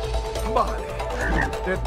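Frog croaking in the co-op video game It Takes Two, a few short guttural croaks over a low steady hum, with people talking over the game sound.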